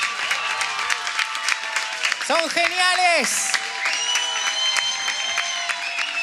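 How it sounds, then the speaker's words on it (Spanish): Applause for a municipal folk orchestra at a live concert, with crowd clapping and whistles under loud cheering voices and an excited shout from the audience. "Fuerte el aplauso, señores."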